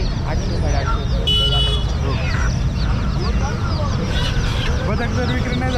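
Poultry at a busy village market selling chickens, roosters and ducks, with clucks, crows and quacks scattered through constant crowd noise and people talking nearby.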